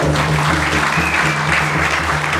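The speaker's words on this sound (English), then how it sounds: "Can we clap for Jesus?" A church congregation claps together in a full, loud burst of continuous applause, with a low steady hum from instruments or sound system running underneath.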